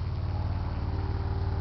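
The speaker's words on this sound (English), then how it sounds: "got some motorcycles going by" A low, steady engine rumble drones throughout, loud and close, with a constant pitch like motorcycles idling or rolling by.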